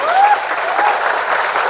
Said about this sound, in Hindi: ओम प्रकाश जी के लिए एक बार फिर से हाथ उठाकर हवा में जोरदार तालियां होंगी